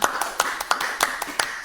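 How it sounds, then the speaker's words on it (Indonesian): A brief round of applause in a classroom: a handful of sharp, evenly spaced claps from a small group, close and fairly loud. "Ya, tepuk tangan."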